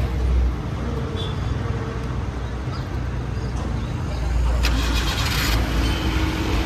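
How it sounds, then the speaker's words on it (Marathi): A car engine starting after a battery jump-start, settling into a loud, steady idle close by, with a louder surge of revving near the end and people talking over it. "फायनली आपली गाडी सकाळी 3:30 वाजल्यापासून जी बंद होती ती आता चालू झाली आहे गाडी"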